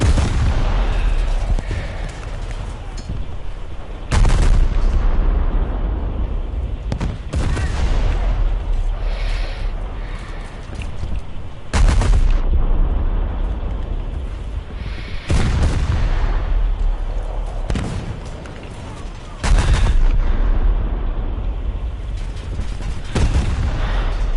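Tank cannon fire in the War Thunder video game comes as heavy, booming shots, several spaced a few seconds apart, each loud and followed by rumbling battle noise.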